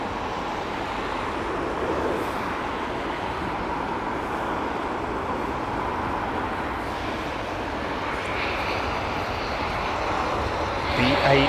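An airliner lands at London Heathrow Airport in wet weather, a steady broadband jet roar that stays loud and constant throughout, with rain-soaked runway hiss beneath and a rising surge of engine noise at the end.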